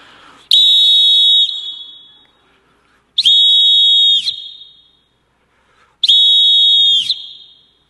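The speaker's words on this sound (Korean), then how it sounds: "제가 호루라기 분 이유가 있습니다" Three long, shrill blasts on a whistle, each about a second, spaced evenly apart and loud in a large hall, with no talking between them.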